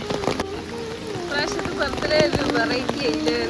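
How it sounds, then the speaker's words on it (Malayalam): Heavy rain pours steadily at Malampuzha, close by, with people talking over its dense hiss. "ഭയങ്കരമായ മഴയാണ് കേട്ടോ"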